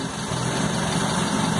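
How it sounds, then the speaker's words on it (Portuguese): A running engine with water being dripped into it gives off a continuous, loud, rough rumble, with no voices. "O motor desacelera porque a água não entra explosão."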